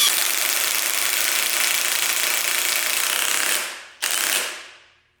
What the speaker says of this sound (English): This is their newest 1/2-inch drive cordless impacts.